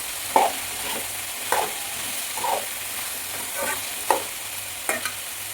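Curry leaves frying in oil in a pan over a medium flame, a steady sizzle broken by several sharp spoon scrapes and taps at irregular intervals, close and loud with no voices.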